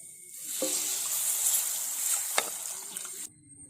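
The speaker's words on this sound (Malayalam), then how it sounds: "നമുക്ക് ആവശ്യത്തിന് വെള്ളം ഒഴിക്കാം" Water poured into a cooking pan of hot coconut oil with browned turmeric powder for a fish curry, giving a steady, close rushing hiss for about three seconds that stops abruptly.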